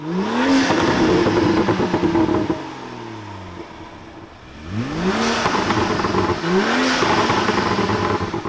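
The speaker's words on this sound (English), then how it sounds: "Just listen to this car, man. Look how aggressive it sounds." A BMW M2 engine revs hard several times, rising pitch sweeps with a brief drop between bursts, loud and close.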